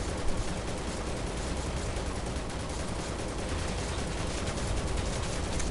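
Continuous dense gunfire in a shooter video game, a steady wall of overlapping shots and explosions at even loudness with no pauses and no clear speech.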